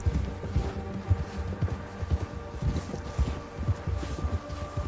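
Horse hooves clip-clop in Red Dead Redemption 2, a steady dense run of low thudding steps over constant game ambience.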